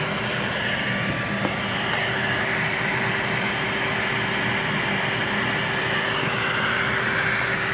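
Yeti SmartBench CNC router carving a sign into PVC trim, giving a steady, loud, even whine and hiss that holds constant throughout with no voices.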